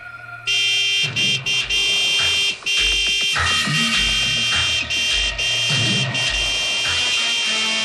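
A car horn blares loudly and almost continuously, held in long blasts with a few brief breaks, while rumbling engine and road noise sits underneath.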